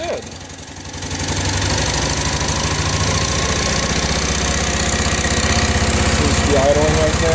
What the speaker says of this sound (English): Idling right there.